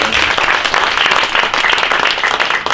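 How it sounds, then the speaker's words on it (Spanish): Loud, close applause from a church congregation fills the room, a dense, continuous clatter of many hands clapping hard with no break throughout. "Den un aplauso bien fuerte al Señor."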